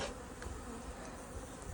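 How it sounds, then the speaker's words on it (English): Honeybees buzz around a queen cage during spring hiving in Alaska, a faint, steady insect drone with no voices. "We take these bees off of her cage"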